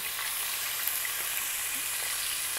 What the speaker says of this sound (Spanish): ya le vamos a poner el bistec a la cacerola el bistec de pulpa blanca